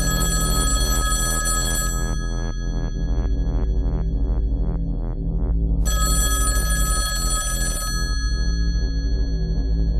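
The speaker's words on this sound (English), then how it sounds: "are you going to answer the phone?" Telephone bell ringing in repeated bursts, a steady electronic ring with bright harmonics sounding loud and close, pausing briefly before ringing again.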